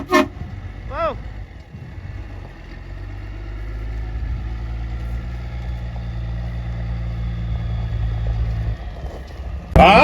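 A truck towing a 40-foot trailer rumbles along at a low, steady engine drone for most of the stretch. A short horn-like tone sounds near the start, and loud knocks mark the beginning and end.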